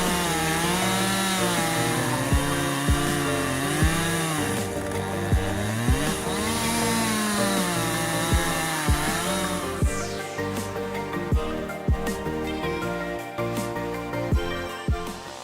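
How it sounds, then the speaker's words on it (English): CUS1201 chainsaw with a 50cc engine cutting large wood blocks, a loud whining engine that rises and falls in pitch, then a harsher, rougher buzz broken by repeated sharp knocks as the chain bites. "the CUS1201 chainsaw is a force to be reckoned with, delivering precision and power in every cut"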